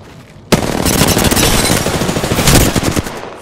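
Sustained automatic gunfire from the video game Apex Legends starts abruptly and runs loud and dense as rapid shots for about three seconds, with no voices.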